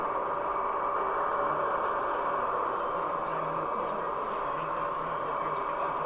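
A Stadler FLIRT train rolls past in a steady, even rumble with a bright hiss of wheels and rail that holds at a constant level, with no voices.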